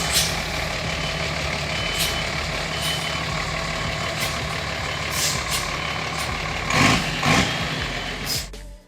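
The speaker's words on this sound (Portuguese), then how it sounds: "Começando com ele, o lendário Mercedes-Benz L1113." An old Mercedes-Benz L1113 truck engine runs steadily and loud throughout, with a deep continuous rumble and a couple of brief sharper bursts near the end.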